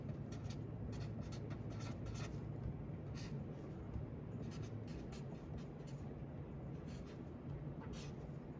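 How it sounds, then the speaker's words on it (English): Pen writing math out by hand on paper, a continuous close scratching with rapid short strokes and taps, quiet and alone. "I'll just write it out."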